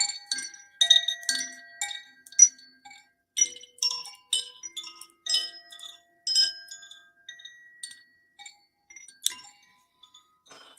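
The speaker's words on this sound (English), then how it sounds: "One is this beautiful chimes." Chimes used as a sound healing instrument after a meditation ring out in bright, shimmering clusters of high metallic tones, struck repeatedly in irregular bursts with short decays, alone and fairly close.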